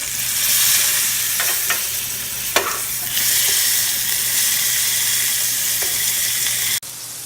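A pork tenderloin browns in a hot pan, giving a steady, loud, close sizzle with a few stirring clicks and a sudden cut near the end, no talk.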